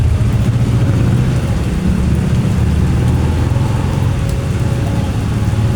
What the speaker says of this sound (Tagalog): Nga kusog-kusog mang ulan.